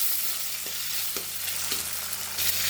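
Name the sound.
tomatoes and onions sautéing in a pan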